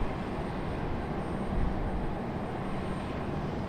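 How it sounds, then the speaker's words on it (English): A Breeze Airways Airbus A220 touches down at Raleigh-Durham International Airport, heard as a broad steady jet roar and rumble, moderately distant and continuous through the short stretch. "Breeze Airways touching down in the A220."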